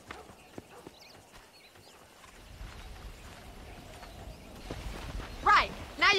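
Horses in the Western game Red Dead Redemption clip-clop at a steady walking pace, with a couple of sharper bursts near the end that could be a neigh or snort, over a low outdoor ambience.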